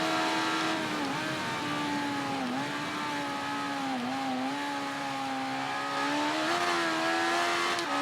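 Racing motorcycle engine in the Ride 3 video game on a track, revving loudly and continuously, pitch dipping and climbing with gear changes and throttle, no voices.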